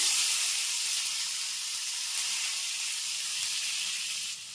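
Whole cumin, two dried chillies and tomatoes hitting hot oil in a Bengali papaya and chickpea ghonto, producing a loud, continuous broad sizzling hiss that holds steady and drops slightly at the end.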